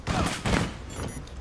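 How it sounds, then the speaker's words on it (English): Gunfire in Rainbow Six Siege: two or three heavy, close shots in quick succession, each with a booming decay. "Someone's sniping out the bathroom window."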